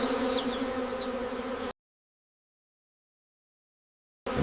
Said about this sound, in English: Wax, honey, and thousands of angry bees waiting inside. He starts to climb, and the swarm is already rising.